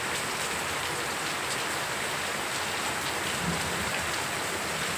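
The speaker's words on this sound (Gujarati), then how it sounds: "બહુ વરસાદ છે ચાલુ." Heavy rain pours down steadily over a village farm field, a dense, unbroken hiss that stays even and loud for the whole stretch, with no talking over it.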